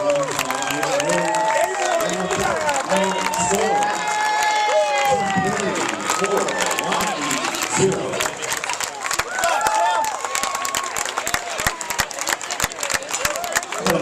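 Crowd at a high school WIAA baseball quarterfinal between Sun Prairie and Waunakee, clapping and cheering steadily throughout, with voices talking over the applause.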